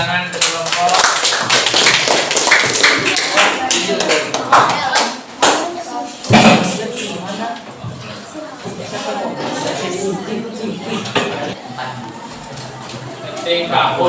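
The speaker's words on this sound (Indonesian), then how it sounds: "kita beri tepuk tangan ke kelompok" An audience in a classroom presentation setting applauds the presenting group, a dense, sustained clapping that runs throughout with a brief dip midway, mixed with crowd chatter.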